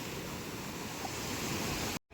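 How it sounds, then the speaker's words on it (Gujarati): Big sea waves break at the shore in Dwarka, a steady, dense roar of surf and wash that fills the air without pause before cutting off abruptly near the end. "અત્યારે પાણી આવે છે એટલે જો બહુ મોટા મોટા મોજા આવે છે"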